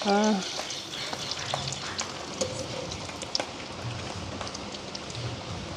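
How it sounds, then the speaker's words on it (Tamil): Steady, dense sizzle of spice-coated chicken rolls frying in hot oil, continuous and close, with faint clinks and a brief voice at the start. "நாங்கள் ரசக்கு தூள் பிரட்டி வச்சுருக்கிற சிக்கன் ரோலை வண்டையும் பொரிகிறதுக்காக போடுவோம்."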